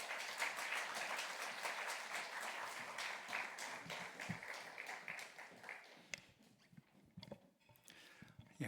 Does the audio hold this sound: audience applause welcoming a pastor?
yes